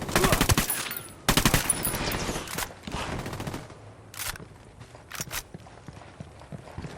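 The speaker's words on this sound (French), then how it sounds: "Des coups de feu." Bursts of rapid gunfire in the video game Ghost Recon Wildlands crackle in short volleys during a cartel shootout, loud at first and then scattered, with quieter shots and rustling in between.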